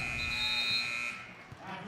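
A loud, steady electronic buzzer ends the quarter of a girls' high school basketball game between Roxana and Marquette. It holds a single flat tone for about a second, then cuts off, leaving gym crowd noise underneath.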